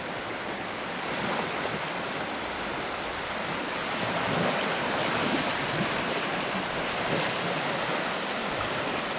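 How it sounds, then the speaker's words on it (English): Ocean waves on the winter beach at Dawlish Warren, a steady, full rushing wash of surf with wind, continuous and fairly close, no voices. "just listen to the sound of the waves"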